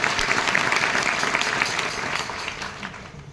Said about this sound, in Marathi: महाराजांकरता सर्वांनी एकदा सर्वांनी टाळ्या वाजवल्या